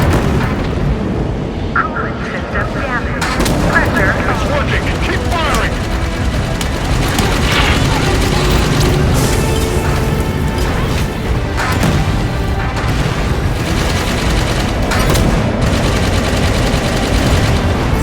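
Halo firefight: dense, continuous weapon fire and booming blasts layered with sci-fi game effects and music, loud throughout, while voices speak intermittently over the battle.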